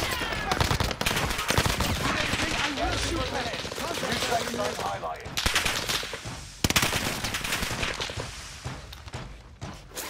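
Rapid automatic gunfire in a multiplayer military shooter game, dense bursts of shots rattling almost continuously, with a few louder reports cutting through and faint voices underneath.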